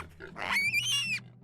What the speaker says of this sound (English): And oinked.